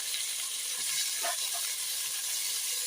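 Tomatoes sautéing in a pan for vegetable biryani, a steady bright sizzle and hiss running throughout, close and even, with no voices.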